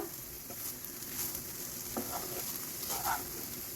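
Banana flower (mocha) dal with masoor lentils stirred in a pan, a faint continuous sizzle with a few soft scraping strokes, quiet and close.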